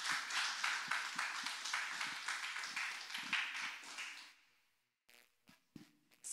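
A church congregation claps together in steady, dense applause that lasts about four seconds, then breaks off into a few scattered, isolated claps and taps.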